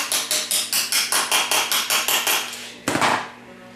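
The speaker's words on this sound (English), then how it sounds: "then you go ahead and just tap your tubes down in there" Hammer taps seating transmission tubes into a TH400 automatic transmission during assembly, about a dozen sharp metallic strikes in a steady rhythm, close and fairly loud, ending with one heavier ringing blow.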